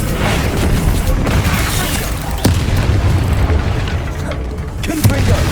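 An Expelliarmus spell fires in Hogwarts Legacy amid a busy duel, with loud sustained booming, several sharp impact bursts and crackling bangs over a few seconds.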